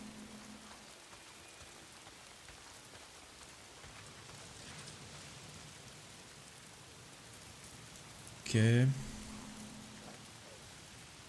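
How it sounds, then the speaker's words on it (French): Steady rain falling in the open-world video game Days Gone, a soft even hiss continuing throughout, briefly interrupted near the end by a louder in-game sound and a short spoken word. "manquait plus que la pluie"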